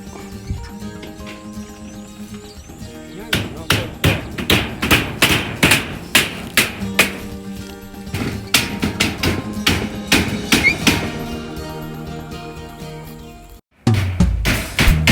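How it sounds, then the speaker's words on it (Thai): Sharp hammer blows drive nails into wood in irregular bursts, some rapid runs of taps and heavier thuds, close by, with a brief pause near the end. "ตอกตะปู"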